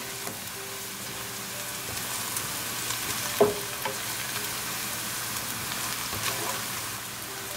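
Salt, ground ginger, garlic powder, black pepper, coriander and turmeric fry with rice in a pan for a vegan pilaf with mini peppers, giving a continuous even sizzle with an occasional soft scrape from stirring.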